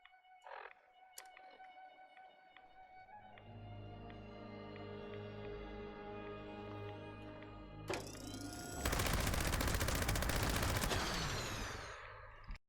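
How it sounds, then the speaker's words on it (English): A Gauss minigun in a video game spins up with a rising whine, then unleashes a loud, continuous burst of rapid gunfire for several seconds before the sound stops abruptly. "Up next is the Gauss minigun."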